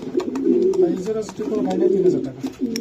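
Racing pigeons coo continuously in low, throaty rolling calls, fairly close and steady throughout, with no other clear sounds.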